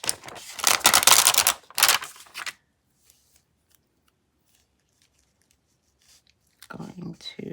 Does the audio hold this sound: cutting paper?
yes